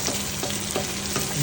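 Garlic frying in oil toward golden brown, a continuous close sizzle with faint rhythmic stirring scrapes, steady and loud throughout with no voices.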